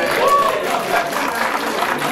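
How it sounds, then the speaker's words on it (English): A crowd at a community club's founding and officer installation ceremony applauds in a steady, fairly loud wash, with voices mixed into the clapping. "Let's give Grace a round of applause"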